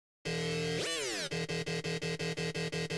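A dry, buzzy bass tone from a 3x oscillator synth, first held, then dipping in a quick pitch sweep before pulsing in steady, rapid repeated notes. Loud, unprocessed, no voices.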